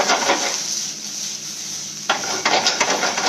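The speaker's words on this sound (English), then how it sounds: "So we'll just saute it." Brinjal sautéing in a hot pan with salt and turmeric, a steady close sizzle with a sharp burst of stirring and scraping near the end.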